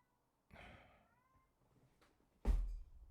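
A pet cat gives a drawn-out meow, then a quieter call follows before a sudden loud thump or bump near the end, all in a quiet room.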